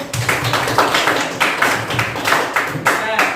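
A classroom group applauds in a steady rhythmic pattern, claps landing in regular beats about twice a second, with voices mixed underneath.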